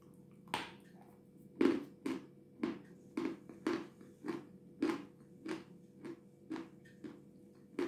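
Close bites and chews of a powdery sugary sweet, about a dozen crisp crunching bursts at a steady, slightly uneven rhythm, quiet and alone without talk.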